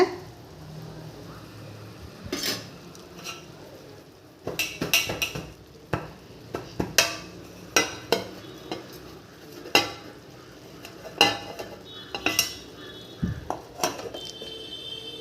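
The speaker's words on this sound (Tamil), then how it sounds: "மஞ்சத்தூள்லாம் போட்டு நல்லா கிண்டி விட்டு வேக விட்டுடுங்க" Prawn ground-spinach gravy with turmeric is stirred in a metal pot: irregular spoon scrapes and clanks over a low simmering sizzle, with a quiet pause early on before busier stirring.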